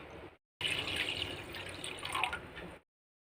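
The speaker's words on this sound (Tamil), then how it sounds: "இப்போ ஒரு 2 டம்ளர் தண்ணி ஊற்றுறேன்" Water is poured from a tumbler into a cooking pot with flattened rice, a soft close splashing stream lasting about two seconds after a brief pause, fairly quiet.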